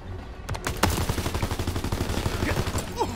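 Call of Duty WWII campaign battle gunfire, a rapid string of close shots and rattling bursts pounding continuously, loud and chaotic, with occasional faint voices mixed underneath.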